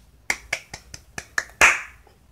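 Seven sharp hand claps land at a steady, even pace, close and dry, and the last one rings loudest with a brief tail.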